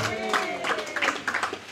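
An audience claps hands in a quick rhythmic burst of several claps, fairly close, with a voice mixed in among them.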